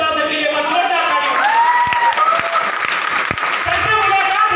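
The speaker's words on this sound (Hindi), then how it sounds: "जोरदार ताली" Audience at a business meeting bursting into steady, loud applause, dense clapping filling the whole stretch with a few shouts mixed in.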